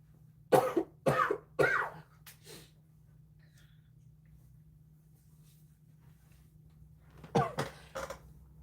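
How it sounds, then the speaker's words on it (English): A person's coughing fit: three harsh coughs close to the mic, then a shorter fourth, a long quiet pause with faint breathing, and another cluster of rapid coughs near the end, all indoors with no talking. "Here we go with a coughing fit."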